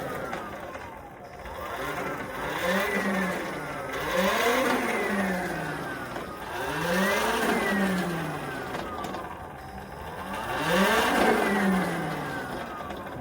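A Talaria electric dirt bike with a swapped-in Surron throttle spins its wheel in repeated bursts, the motor whine sweeping up and down in pitch about four times, loud and close, with no one speaking.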